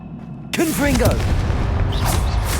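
A Confringo fire spell blast in Hogwarts Legacy, a sharp booming impact that hits suddenly and is followed by a sustained roar of fiery noise, with brief whooshing, tonal magical swirls near the start.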